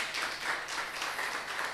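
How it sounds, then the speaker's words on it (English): A round of applause from the in-person audience at a medical association webinar on osteoarthritis, steady dense clapping held at an even level with small swells throughout, no voices over it. "please can we give another round of applause"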